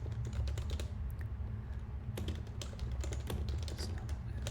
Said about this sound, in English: I'm typing this out for my own benefit.